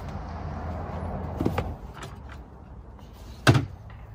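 A sturdy dog kennel door is handled at close range, giving a few short knocks and a sharp clack near the end over quiet background noise.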